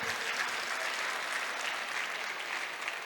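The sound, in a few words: loud audience applause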